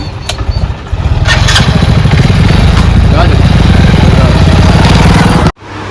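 A motorcycle engine running at the edge of a farm field, a loud, steady low rumble with a rapid pulsing beat that cuts out abruptly near the end, with voices briefly heard.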